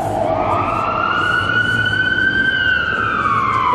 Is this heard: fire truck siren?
yes